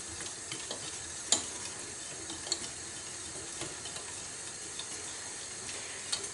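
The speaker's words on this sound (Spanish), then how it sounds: "Y lo tendremos al fuego sin dejar de remover hasta que la masa se despegue de las paredes" Chickpea fritter dough stirred in a pan over heat, a soft steady sizzle with irregular scraping ticks and knocks of the spoon against the pan, quiet and close, with no talking.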